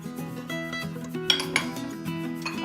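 Spices being stirred into pumpkin pie filling in a bowl: a utensil repeatedly clinks and scrapes against the dish, with a few brighter knocks, moderately loud and close, with no talk.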